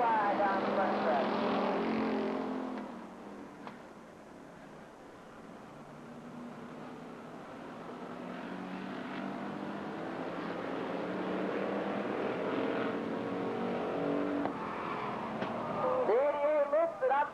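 Street stock race cars at Lake Geneva Raceway roaring past three wide down the front stretch, a loud engine wash fading and swelling under an excited announcer's voice.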